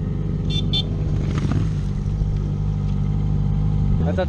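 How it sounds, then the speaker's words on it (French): Two short car horn toots sound from the road over a loud, steady engine and road drone, heard from inside a moving vehicle, with a brief voice near the end. "Il y a une qui klaxonne, je sais pas pourquoi"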